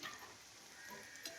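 Pieces of bitter gourd fry in hot oil, giving a soft, even sizzle with faint stirring scrapes, quiet and close with no talk.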